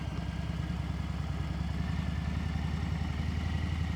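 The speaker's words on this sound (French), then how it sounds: "Je pense qu'on peut passer à moto." Motorcycle engine running steadily with a low, pulsing throb, riding along the river quays past moored barges in a small river port town, close and continuous with no talk.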